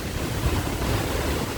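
Ocean waves rolling in as a dense, continuous roar of surf and rushing water, loud and unbroken, with wind buffeting mixed in.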